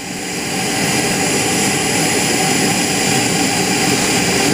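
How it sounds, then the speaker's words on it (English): A small RC model jet turbine in an A4 airframe painted in navy colors spools up at a scale flying event, giving a loud, steady, broadband turbine roar that builds over the first half second and then holds without talk. "Looks like the little jet turbine is going to get off the ground here."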